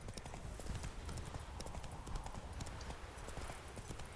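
Hooves of Roach, the horse in The Witcher 3, clip-clop in a steady trotting rhythm close by, with faint voices and ambient game sound running underneath.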